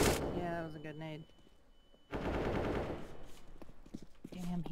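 AK rifle fire in a first-person shooter game comes as rapid bursts of gunshots, one burst at the start and a longer clatter after a quiet gap, with a person's voice talking at times.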